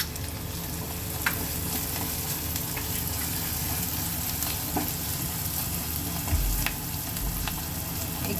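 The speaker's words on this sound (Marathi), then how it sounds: "आणि कांदा छान गुलाबी रंगाचा होईपर्यंत छान भाजून घेऊया" Onion roasting in oil in a pan for a Maharashtrian tikhat dal, giving a dense, steady sizzle that stays close and loud throughout, with a few faint stirring knocks and no speech.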